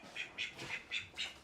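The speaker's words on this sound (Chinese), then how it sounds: "这一只是养在我工坊的一只鸭子" A duck in a woodworking workshop quacks five times in a steady, evenly spaced series, each call short and fairly faint, with no talking.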